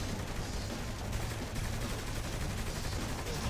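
Dense, continuous gunfire from the video game Saints Row: The Third crackles in rapid overlapping bursts, filling the whole short stretch at a steady level.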